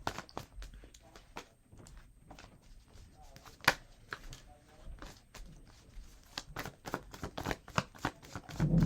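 A deck of tarot cards is shuffled in a string of quick, crisp riffles and flicks, close and fairly soft, with a few sharper snaps.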